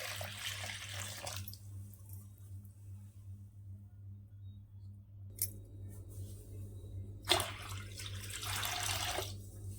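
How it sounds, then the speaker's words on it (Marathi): Water pours into a bowl of fine semolina for rice-flour-style kurdai, heard as a short splashing stream at the start and another brief pour later, otherwise quiet. "आणि यामध्ये ना आपल्याला पाणी घालून द्यायचं"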